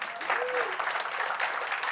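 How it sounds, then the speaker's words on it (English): Audience at a health care talk clapping in a dense, steady patter for about two seconds, with a voice faintly audible underneath. "Clap if you like Dr. Don Berwick."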